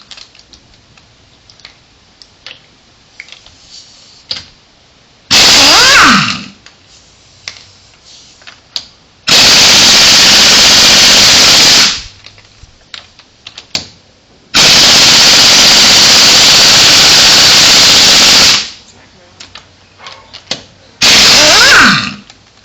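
Impact gun used while changing car brakes rattles in four loud, close bursts of about one to four seconds each, with quiet pauses and small clicks between them.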